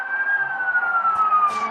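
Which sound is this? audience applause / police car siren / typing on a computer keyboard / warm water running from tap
police car siren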